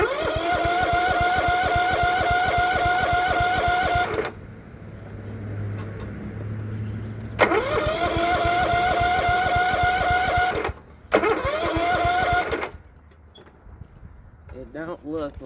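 A Troy-Bilt Bronco engine cranks in three long, rapid, rhythmic bursts without starting. Loud and close, with quieter pauses between the bursts and a voice speaking during one gap.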